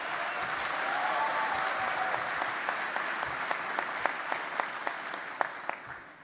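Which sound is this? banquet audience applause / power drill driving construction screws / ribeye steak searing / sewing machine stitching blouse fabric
banquet audience applause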